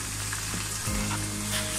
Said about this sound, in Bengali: এভাবে আমি দুপাশ ভেজে নিচ্ছি